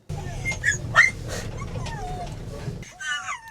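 Several dogs in a car yelp, whimper and bark excitedly as it pulls up at a field, a close, busy burst of high-pitched yips and whines that stops abruptly near the end.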